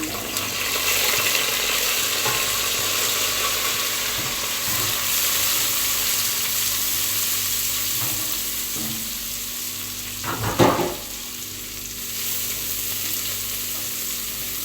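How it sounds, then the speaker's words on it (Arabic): Onions and rice sautéing in a pan give a steady, close sizzle and crackle throughout, with a brief louder clatter of stirring partway through and no talking. "تتشوح بس تشويحه بسيطه كده مع البصل"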